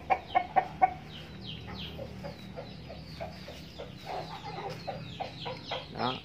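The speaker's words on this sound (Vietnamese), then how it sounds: "có nuôi thêm mấy con gà nữa nha mọi người" Several farmyard chickens cluck in short, repeated bursts, with a few sharper calls at the start and then a busy run of clucks. The birds are fairly close but quiet overall.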